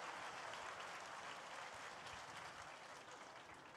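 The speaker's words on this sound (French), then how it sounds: "Applaudissez-la, s'il vous plaît." Audience applause at a dog show for rare breeds, a steady wash of many hands clapping at moderate volume throughout, fairly distant and without talk.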